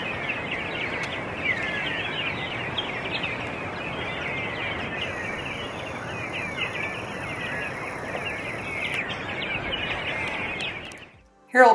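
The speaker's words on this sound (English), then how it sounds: "Here's a little bit of the original audio so you can hear all the wonderful bird sounds." Birds chirping and singing continuously in a fynbos garden near a small flowing creek in South Africa's Cape, with a steady wash of background sound and scattered calls throughout.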